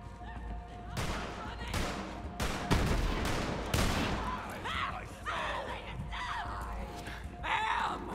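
Gunfire from the video game Borderlands 3 cracks in a burst of sharp, closely spaced shots, then continues more sparsely while voices talk over it.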